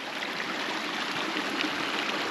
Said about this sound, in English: so we have to rely on the old natural waterfalls